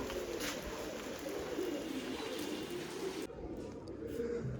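Large pigeons cooing on a rainy day, soft repeated low coos over a steady hiss of rain, moderately near, with faint background voices.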